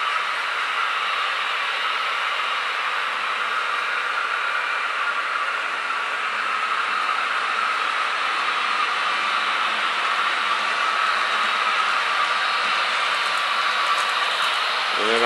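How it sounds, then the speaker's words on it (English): Model trains, including a Canadian National locomotive, running on a layout track, giving a steady, continuous hiss and rumble throughout with no voices. "Then of course I've got my CXX train running as well."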